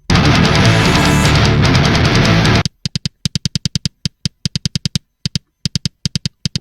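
A soloed metal kick drum sample run through EQ, with bright clicky attacks. After a dense burst of full-band noise, single kick hits and quick double-kick runs fire in a loud, tight, gated pattern with short silences between them.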